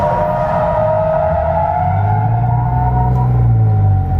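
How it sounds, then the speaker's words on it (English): Hyundai Genesis Coupe engine loud and close while drifting, throttle blipped in and out so the revs rise and fall in a wavering drone that swells and climbs toward the end, with heavy low rumble. "I'm actually modulating the throttle in and out, keeping the car right on the course that I want it to be on"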